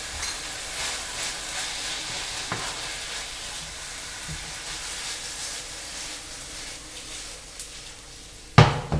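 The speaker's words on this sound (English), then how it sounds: "pop over to the meat. Give it a little shake up, a little stir." Meat sizzles and fries steadily in a frying pan as it is shaken and stirred, with a constant hiss broken by a few soft scrapes and a sharper clatter near the end.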